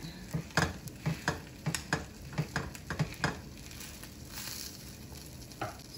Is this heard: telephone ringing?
no